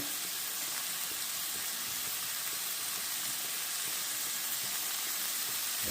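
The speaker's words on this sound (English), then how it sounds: "I'm just gonna fry up some ground beef with some onion" Ground beef and onion fry in a pan, making a steady, dense sizzle and hiss that runs unbroken throughout with no voices.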